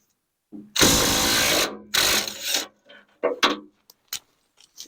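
Bolts being loosened on a snowblower with a power tool: two loud buzzing bursts close by, followed by a few short clanks and scrapes of metal.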